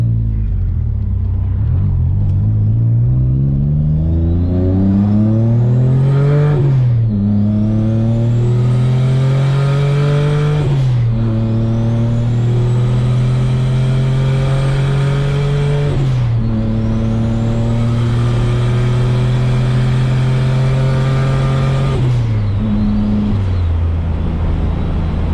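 Subaru Impreza fitted with an EG33 flat-six engine cruising on a winding road, its steady engine drone rising and falling through several gear changes, loud and close with no talk.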